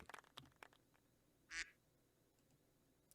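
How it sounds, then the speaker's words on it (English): A duck quack sound effect: one short, bright nasal quack stands out clearly near the middle, with a few faint clicks and ticks scattered around it against a quiet background. "Quack indeed."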